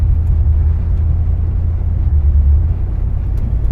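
Engine of a Chrysler New Yorker running with its muffler rusted off, a loud, deep, continuous rumble close by with no one talking.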